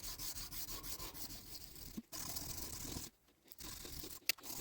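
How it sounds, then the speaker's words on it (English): Hand sanding a steel San Francisco Bowie knife blade: steady close rasping strokes with a few brief pauses and one quiet gap near the end. "Let the hand sanding commence."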